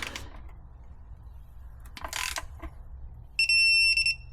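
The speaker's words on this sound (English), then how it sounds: "so I am torquing the end bolts" A torque wrench tightens the oil pan end bolts on a 1952 Chevy half-ton truck with a 235 engine, giving faint ratchet clicks and a short metallic rattle, then a sharp, steady electronic beep near the end.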